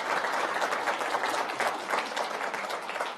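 A short burst of audience clapping for a mentor in the room at a university talk, steady and moderately loud throughout with no voices over it.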